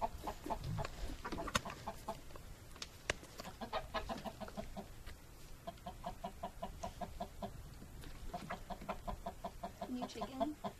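Chickens cluck steadily in a series of repeated clucks across the whole stretch, fairly faint, with other birds and farm ambience in the background.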